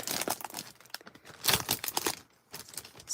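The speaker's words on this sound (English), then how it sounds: "Sorry for that crinkly noise." Plastic packaging crinkles and crackles up close in short bursts, with brief pauses between the rustles.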